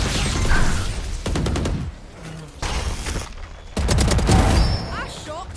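Video game gunfire in several loud bursts separated by short gaps, with brief game sounds between the volleys and no talking.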